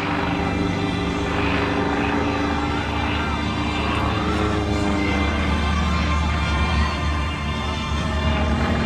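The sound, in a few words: stunt plane with 400 horsepower radial engine and propeller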